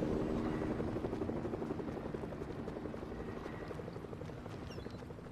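A damaged helicopter in Fortnite Battle Royale thrums with a steady, rapid rotor chop, fairly close and moderately loud, slowly easing slightly over several seconds.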